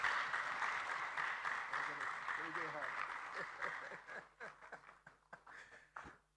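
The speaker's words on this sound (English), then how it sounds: "Shall we give him one more round of applause?" Conference audience applause at an African inter-parliamentary gathering, broad clapping that starts loud and gradually thins out into scattered individual claps, with a voice speaking over it.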